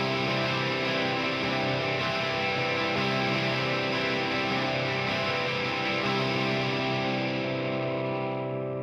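An electric guitar through a distortion patch plays a riff, with sustained thick overdriven chords ringing steadily and loudly before fading at the end, with no voice.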